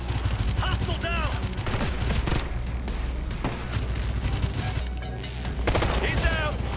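Continuous heavy gunfire from a Ghost Recon Future Soldier firefight in Moscow, dense overlapping bursts and rattling automatic fire throughout, loud and close, with shouted voices mixed in.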